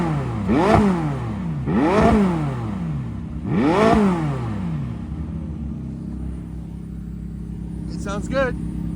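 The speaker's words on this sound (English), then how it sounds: "Sounds like a twin turbo V8." A McLaren 600LT with a twin-turbo V8 revs three times toward a 7,000 rpm redline, each rev rising and falling sharply, followed by a quieter idle and a brief chirp near the end; people talk over it.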